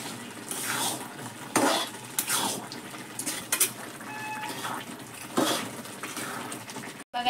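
A spoon scrapes and clinks in a pan as carrot halwa with milk and ghee is stirred until dry, repeated scraping strokes with soft sizzling underneath, close and moderately loud, without talking.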